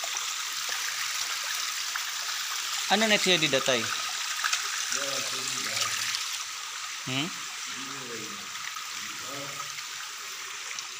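Strong water current rushing out of a cave outlet at Guano Cave in Matag-ob, Leyte, a steady broadband roar running throughout, with people talking over it several times.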